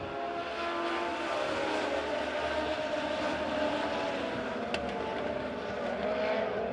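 Legend race cars on the A-Main at Springfield Raceway roar through turns 3 and 4, a dense, steady wall of engine noise from several cars together, held loud and unbroken throughout.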